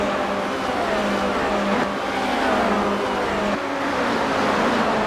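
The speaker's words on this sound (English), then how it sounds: "It's really difficult to follow 45 cars passing each other left," Formula Renault race cars in the iRacing sim at Watkins Glen, a pack of engines whining past in overlapping high-pitched waves, steady and loud with pitch sweeps as cars pass one another.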